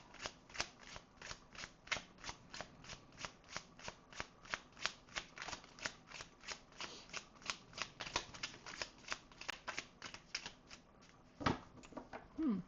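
Tarot cards being shuffled in a long run of steady, rapid riffling flicks, close and fairly quiet, ending with a few brisker handling sounds as cards are drawn.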